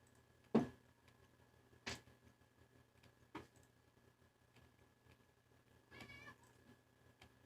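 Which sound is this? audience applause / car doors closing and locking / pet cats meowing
pet cats meowing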